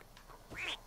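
A duck in the video game Rayman Legends gives one brief nasal quack, close and clear over quiet game background sound.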